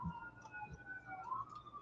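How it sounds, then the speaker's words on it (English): A distant emergency siren wails faintly, its tone rising and falling as it draws nearer, low beneath quiet room noise. "And I hear a siren coming."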